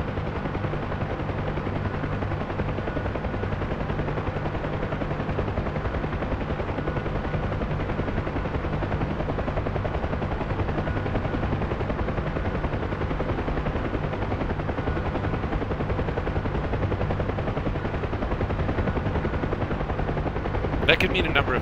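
Helicopter rotor and engine drone from the Helo Ops video game, an aircraft taking off from a taxiway; a steady, loud, continuous low throb runs unbroken throughout, ending with a brief burst of higher noise.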